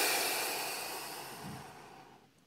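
A long, soft exhale of breath during a relaxation exercise, a breathy hiss fading steadily over about two seconds, heard close and alone.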